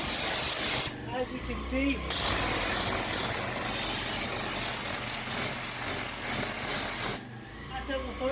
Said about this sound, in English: we're just waiting for the pressure to build up, and then we're going to blast this pump.